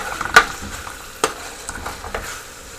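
Beef and potatoes stir-fry in a pan, giving a steady low sizzle broken by a few sharp scraping knocks of a spatula.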